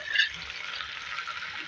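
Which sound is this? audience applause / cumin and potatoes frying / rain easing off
cumin and potatoes frying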